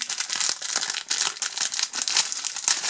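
Frozen cheeseburger being unwrapped from its plastic packaging, a steady close crinkling and crumpling of wrapper with a few sharper tearing rustles, loud and continuous with no talk.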